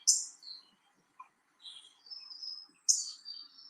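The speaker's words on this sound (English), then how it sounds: "this darn bird that was in the tree this morning" A bird singing in a tree in the morning: bright high chirps and short whistled phrases, a few separated calls with pauses, fairly faint and at a distance, no voices.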